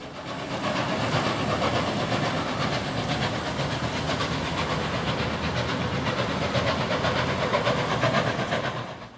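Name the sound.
steam locomotive train heading into Wollongong Station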